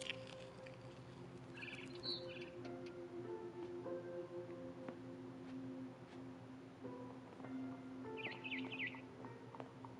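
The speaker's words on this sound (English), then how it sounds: "Then I heard chirping outside my window. It was a barn swallow going back to her nest." A barn swallow chirps in the video game What Remains of Edith Finch, short bright calls in brief bursts over a soft, steady ambient background, with no talking.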